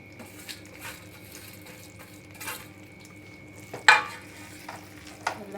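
Raisins, cashews, coconut and white sesame stirred together in a pan off the heat, soft scraping and rustling with a few sharper clinks of the spoon against metal, close and unaccompanied.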